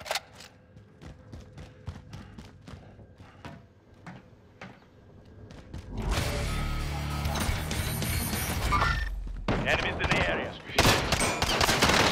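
Gunfire in Call of Duty: Modern Warfare, starting with a run of evenly spaced single shots and then breaking into dense, loud bursts of automatic fire and explosions close by.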